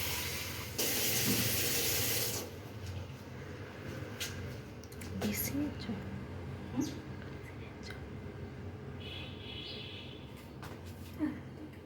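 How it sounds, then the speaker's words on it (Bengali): Tap water pours into a cooking pot in a home kitchen as a steady rushing splash lasting a couple of seconds, followed by quieter kitchen clatter and faint background noise. "এই যে জল দিচ্ছে একটু, আমি কলের জলেও রান্না করি"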